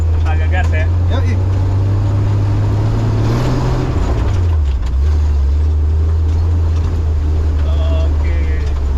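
A chop-top Toyota FJ40 fitted with a Honda VTEC engine revs and accelerates nearby with a strong, steady low drone whose pitch climbs then dips and settles, while people talk over it.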